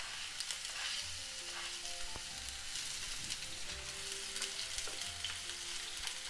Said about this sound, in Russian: На сковороду налила масло немного. Отправляю лук, нарезанный четверть кольцами.